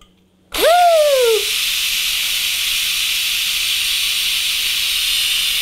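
A Cosori 2-quart electric pressure cooker cooking pinto beans vents steam with a sudden loud hiss, opening with a brief falling whistle-like tone, then settling into a steady, continuous rushing hiss for several seconds.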